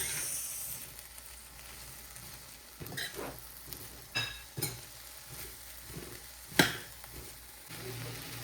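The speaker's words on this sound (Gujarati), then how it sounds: "લસણ શેકાઈ ગયું, એમાં નાખીએ ભીંડા. હવે કરી દઈએ મિક્સ." Okra frying with roasted garlic in a pan makes a faint, low sizzle, broken by a handful of sharp spatula knocks and scrapes as it is stirred.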